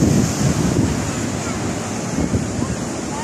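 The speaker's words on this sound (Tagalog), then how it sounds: "maganda yung tunog ng tubig sa dagat," Sea waves wash and surge at night along the Jeddah corniche over steady wind buffeting the microphone, a continuous rushing roar up close.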